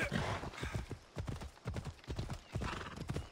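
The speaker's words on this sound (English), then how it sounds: "Get over here, horse." Horse hooves clip-clop in quick, uneven bursts in Assassin's Creed Odyssey, close and clear, with a brief whinny at the start.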